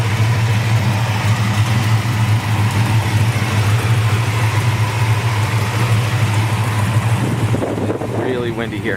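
A 1967 Chevrolet Chevelle SS with a 454 V8, long tube headers and a dual Flowmaster exhaust idles with a steady, loud, deep rumble outdoors in cold, windy weather, with wind buffeting the microphone and a brief voice near the end.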